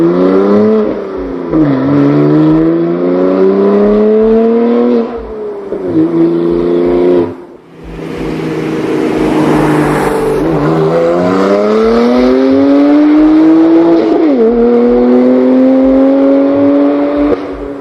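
A BMW S55 engine drones through its exhaust with a harmonic tone that rises and falls as it revs up and down several times, loud and steady, with a brief dip near the middle.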